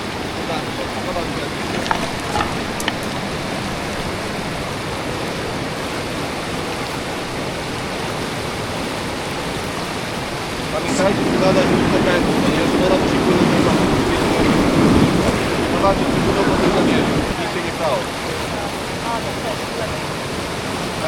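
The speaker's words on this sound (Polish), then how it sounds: "ta fala jest na pewno wywracająca" Rushing rapids and churning waves on the mountain stretch of the Vjosa river in Albania, a steady broadband roar that swells louder midway, heard close and alone without talk.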